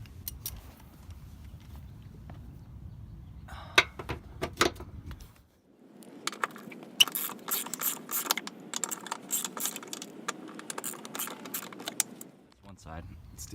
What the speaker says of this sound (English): It's funny because I grabbed a 17 on the ratchet.